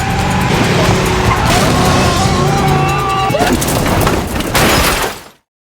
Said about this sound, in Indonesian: Rencana untuk ngerem mendadak ternyata malah membuat mobil masuk jurang